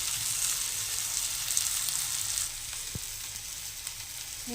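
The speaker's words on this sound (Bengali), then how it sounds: "ভালোভাবে মশলাগুলো কষানো হয়ে গেছে" Spices sizzle steadily as coriander, turmeric and chili powder fry in hot oil, a continuous close hiss that eases slightly partway through, with a faint stirring tap near the end.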